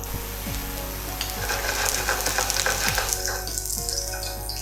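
Finely chopped garlic hits hot oil in a pan for egg fried rice, giving a steady broad sizzle with occasional stirring scrapes and a faint low hum underneath, no voices.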